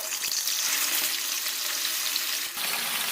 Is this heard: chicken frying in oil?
yes